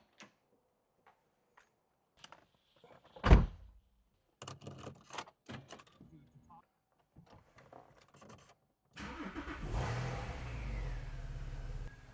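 Keys jangle and a car door thumps, then a 2009 Porsche 911 Carrera 4S (997.2) engine cranks and catches into a loud, rumbling idle with a rev, close by.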